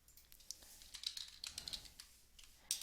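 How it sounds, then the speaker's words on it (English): Quick bursts of keystrokes on a computer keyboard, soft and close, with short pauses between clusters of taps and no talking. "And we're just going to type in grocery"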